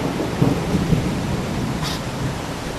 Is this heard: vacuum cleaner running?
no